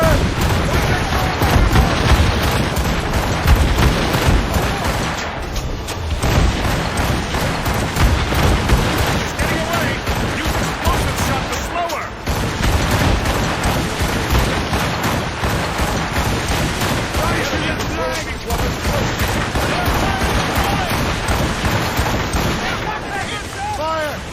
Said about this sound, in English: They are firing a volley! Fire!